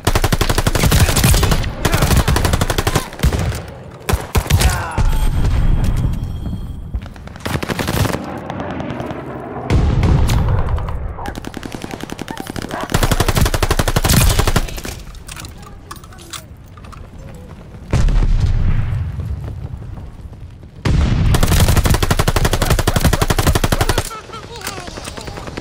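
Rapid automatic gunfire and single shots in Call of Duty: Vanguard multiplayer, loud bursts in clusters separated by short quieter gaps, with game voice announcements in between.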